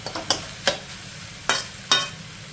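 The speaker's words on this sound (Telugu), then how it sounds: "ఒకసారి అంతా కలిపేసేసుకున్నాము." Spoon stirring cooked leafy greens in a pan for a Telugu chutney, four or five short scraping strokes at irregular intervals over a faint sizzle, close by and with no talk.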